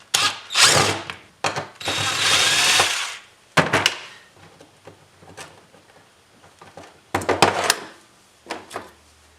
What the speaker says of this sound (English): so let's take out these 2 bolts, or these 2 screws